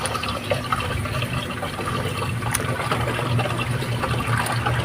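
Fermented water, used for gardening, is poured from a container in a steady, continuous splashing stream, close and loud, without pause.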